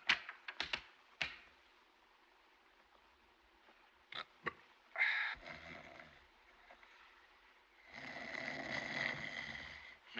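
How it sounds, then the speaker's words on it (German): A man snoring in an old black-and-white film soundtrack: a few faint clicks, then rough rasping snore breaths, one brief and one longer and louder near the end, against a quiet hiss. "Mensch, schnarch nicht so"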